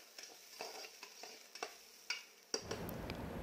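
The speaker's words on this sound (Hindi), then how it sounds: "उसे 1 से 2 मिनट अच्छी तरह से मिक्स करके उसे भी मैं चला लूँगी" A spoon scrapes and knocks rhythmically in a pan of frying beans, potatoes and green peas, with repeated soft clinks, then a louder clatter followed by a steady sizzle.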